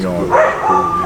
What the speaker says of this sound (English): Sorry about the dogs, they're going wild right now.